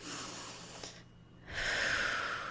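A person breathes slowly in and out close to the microphone: a soft exhale, a short pause of near silence, then a stronger airy breath, all fairly quiet with no speech.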